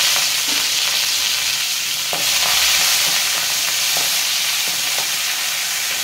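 Curry leaves frying in hot oil, a loud, close, continuous sizzle and crackle with a few soft stirring knocks, no voices.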